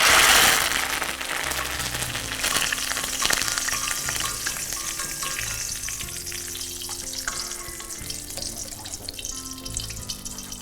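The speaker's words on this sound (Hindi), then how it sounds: "गरम तेल पे ही, जो इतना गरम है, इसमें हमारा कड़ी पत्ता है, ये फ्राई हो जाएगा।" Curry leaves frying in very hot oil in a pan after the stove has been switched off, a loud burst of crackling at the start that settles into a steady, dense sizzle close by, with no talking.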